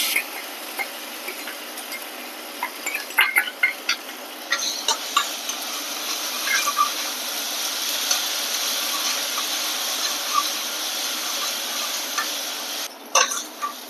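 Ginger and garlic frying in a pan, a steady hissing sizzle with scattered ticks and light utensil taps, close and even throughout.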